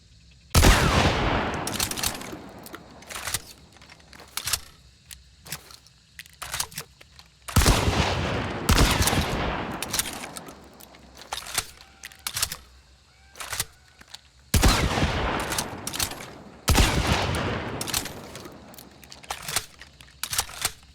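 Romero 77 Alamo shotgun in the video game Hunt firing in loud booming blasts, four shots spaced a few seconds apart, each followed by sharp clicking reload and cycling mechanism sounds, with no talk.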